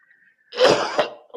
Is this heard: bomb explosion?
no